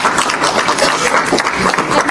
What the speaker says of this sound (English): Austin, a round of applause